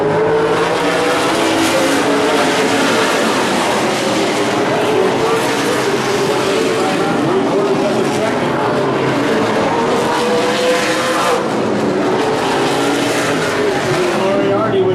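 Super late model race cars roar around Evergreen Speedway in a 50-lap main, a dense, loud continuous engine drone with cars passing close, while a commentator talks over the racing.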